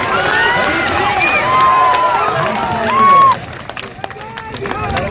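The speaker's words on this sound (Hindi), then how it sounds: "बजाइए ताली जिसको बजाना है।" A large crowd at a political rally in a Bihar village claps and cheers loudly, a dense roaring burst over shouting voices that suddenly drops off to scattered sounds.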